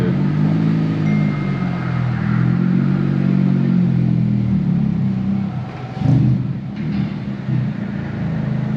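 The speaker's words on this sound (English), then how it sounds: "I hate when people pump the damn gas pedal like that in manual cars" A manual-transmission Honda Civic Si, 8th generation, idles with a deep, steady engine rumble, then its gas pedal is pumped once for a brief rev bump near the end before it settles back.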